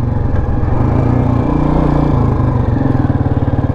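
A restored 2004 Royal Enfield Bullet Standard motorcycle running, its single-cylinder engine thumping in a loud, steady, rapid beat close by, with no voice over it.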